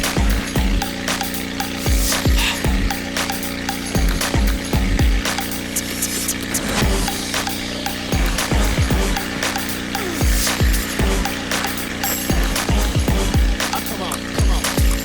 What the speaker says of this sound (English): And that's gutter vacuuming.